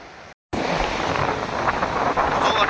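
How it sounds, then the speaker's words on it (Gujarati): A loud, continuous roar of the flooded Hiran river rushing bank to bank, mixed with gusty wind buffeting the microphone, after a brief moment of silence at the start. "પાણીનો પ્રવાહ છે બહુ મોટો"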